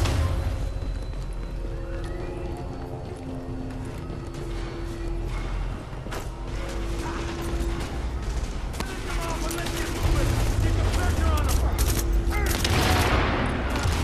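Gunfire in the video game The Division: sustained bursts of automatic weapon fire with rattling shots and booms over a low rumble, growing louder toward the end, with a voice talking over parts of it.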